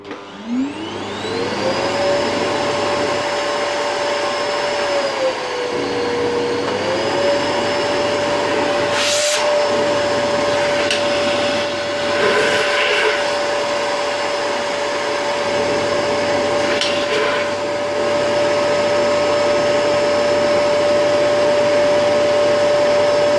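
A vacuum cleaner fitted with an upgraded motor runs continuously at close range, a loud steady whine that rises as it spins up and dips briefly in pitch, with occasional bumps and handling noises and no speech.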